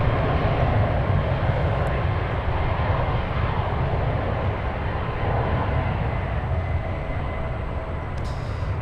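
An Aeromexico airliner, flight 669 bound for Mexico City, roars down runway 1 left on its takeoff roll, a loud, steady, broadband engine rumble that fills the whole stretch without a break.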